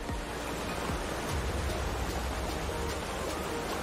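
Lingmala waterfall near Mahabaleshwar roars as a dense, steady rush of falling water, loud and continuous with no other sounds.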